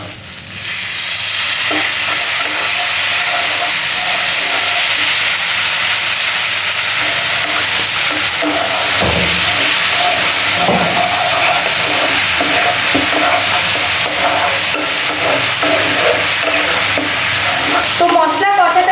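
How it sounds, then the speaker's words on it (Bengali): Masala with ground cumin and a splash of water frying in a pan of cauliflower curry, a loud, continuous hiss and sizzle with occasional stirring scrapes, no voices. "এবার ভালো করে মশলাটাকে কষিয়ে নেব। তো একটুখানি জল দিয়ে দেবো আমি।"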